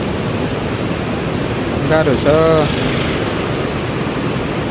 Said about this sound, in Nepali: खोला बढिरहेछ